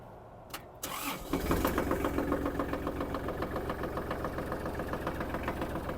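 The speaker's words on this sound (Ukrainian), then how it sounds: "Ну що, давайте заведемо тракторець" Kubota GL-25 Japanese mini tractor: after a brief clutch click, its engine cranks and catches, then idles loudly in a steady, even knocking rhythm close by.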